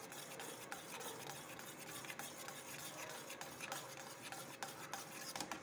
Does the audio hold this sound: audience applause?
no